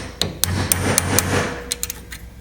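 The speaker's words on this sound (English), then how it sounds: "I'll drive out this roll pin and replace the arm." A roll pin being hammered out of the accelerator pump arm on a Holley 750 cfm 4150 carburetor, roughly a dozen sharp metallic taps in an uneven rhythm, close and loud with a low hum beneath.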